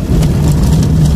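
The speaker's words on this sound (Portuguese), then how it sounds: "Olha aí, gente, tá chovendo. Para cá tá mais grossa a chuva." Heavy rain falls on a car driving along a dusty country road in Piauí, a steady dense hiss of drops close and loud with no talk.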